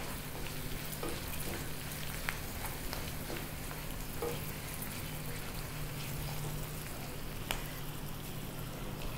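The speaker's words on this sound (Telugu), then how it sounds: "ఎండుమిర్చి కొంచెం బాగా కాలితే బాగుంటుంది టేస్ట్" Dried red chillies fry in a tempering for curd rice, a soft, continuous low sizzle with occasional faint ticks of stirring, heard without voices.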